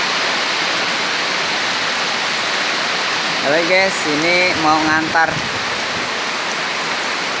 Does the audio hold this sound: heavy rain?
yes